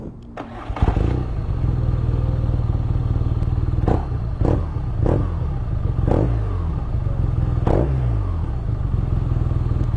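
A 2017 BMW R nine T motorcycle cranks and fires up, its boxer twin catching after a brief starter whirr, then settling into a loud close idle punctuated by several sharp throttle blips.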